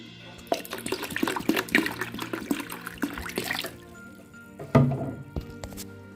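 Filtered water poured over rice and lentils in a home kitchen to soak them, a splashy, gurgling pour for a few seconds, then a brief thunk and a short second splash.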